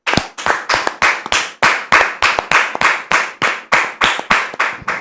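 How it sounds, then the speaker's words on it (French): A studio audience claps in a television talk show, heard as crisp, separate hand claps landing in a quick, fairly regular rhythm, loud and close, with no voices over them. "On le reçoit sous vos applaudissements"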